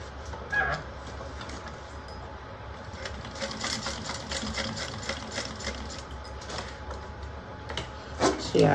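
A sewing machine runs stitching two rows across double-folded webbing, a steady close mechanical whirr with rapid needle rattle that comes in bursts and pauses, louder toward the end.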